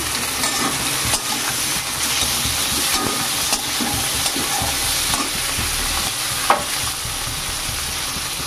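Chopped tomatoes and prawns sizzle loudly in a pan, a dense continuous frying hiss broken by occasional light taps and stirs, with no voices.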